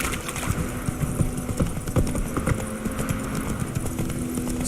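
Roach the horse trots with continuous, uneven clip-clopping hoof beats over an ambient background in The Witcher 3, with no voices.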